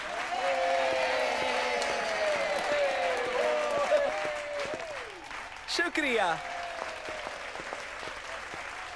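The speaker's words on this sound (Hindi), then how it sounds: "इनके लिए तालियां।" An audience claps steadily while tonal music plays over it, with a brief spoken thank-you and a short burst of louder sound near the middle; the applause stays moderate and continuous.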